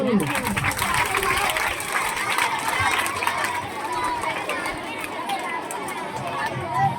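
Schoolchildren at a high school magic show break into clapping and cheering, a dense, lively burst of crowd applause and chatter throughout, with a voice speaking over the noise.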